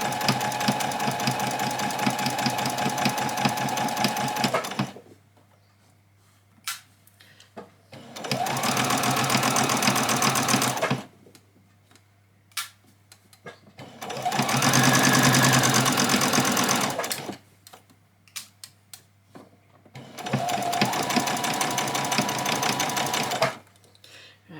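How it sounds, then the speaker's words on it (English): A sewing machine runs a straight stitch on fabric for a child's dress in four loud, steady bursts of rapid whirring, separated by quiet pauses. "So let's start off with just a straight stitch."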